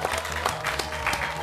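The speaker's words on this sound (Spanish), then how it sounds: "Un aplauso." A studio audience applauds on a live Argentine television debate show, a dense, steady wash of clapping that holds at an even level throughout.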